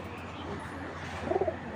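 A male Giribaz pigeon, just released, gives a short burst of soft cooing near the end, over a low steady background hum.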